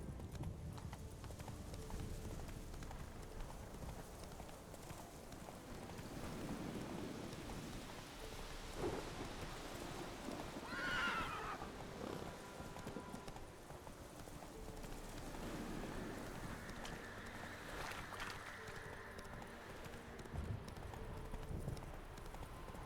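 Roach the horse galloping through The Witcher 3, steady clip-clop hoofbeats running throughout over a rumbling rain and thunderstorm ambience.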